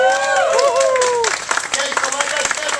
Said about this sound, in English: How about a round of applause, ladies and gentlemen?